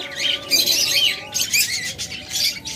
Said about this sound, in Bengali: বিভিন্ন মিউটেশনের পাখি রয়েছে আমাদের কাছে।